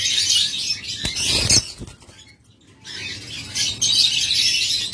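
A master pair of lovebirds kept for sale, a breeding pair with the hen carrying eggs, chirping in bright, rapid high tweets that continue steadily, close by and fairly loud, with a brief lull midway.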